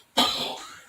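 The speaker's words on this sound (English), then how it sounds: "all I could hear is you coughing." A single sharp cough bursts out close to the microphone and then fades over a fraction of a second, with no talk around it.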